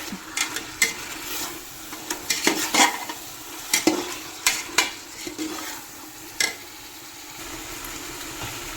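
Food for Arabic madhooth is stirred in a hot pan, with repeated close scraping strokes in an irregular rhythm over a soft background sizzle.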